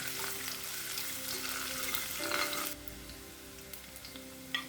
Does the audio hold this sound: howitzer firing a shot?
no